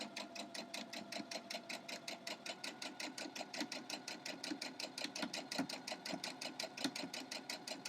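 A sewing machine stitches a red, white and blue crumb quilt block with a steady, fast, rhythmic needle chatter. The sound is close and fairly quiet and continues without talk.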